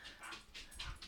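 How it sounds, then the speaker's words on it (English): A pet dog close by in a quiet indoor room gives soft, faint whimpering yips in a few brief bursts, with light clicking in the background. "here comes my dog."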